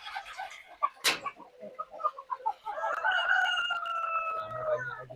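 Chickens on a Kuala Pilah family farm, Brahma Buff hens among them, cluck and call in short bursts before a rooster's long crow rings out near and loud, trailing into quieter clucking.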